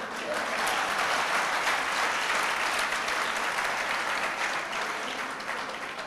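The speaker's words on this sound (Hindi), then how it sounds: "अभी ताली बजाओ आप ठीक से।" Steady, dense applause from a large audience at a Hindu religious discourse on the Hanuman Chalisa, sustained and even for several seconds without a break.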